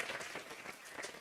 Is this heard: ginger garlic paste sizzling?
no